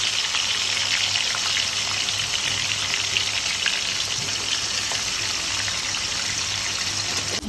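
Spices sizzle in hot white oil in a kadai while chicken bhuna is being cooked. A loud, continuous frying hiss runs steadily throughout, with no talking.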